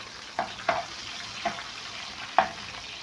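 Onions fry in a pan for a potato tray bake, a soft steady sizzle broken by four sharp scraping stirs.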